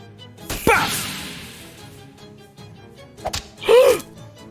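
Shadows Over Loathing swat attack: a sharp whoosh and whack, then a brief pause and a second pair of quick swishing hits, crisp and close over quiet game ambience, with no talk.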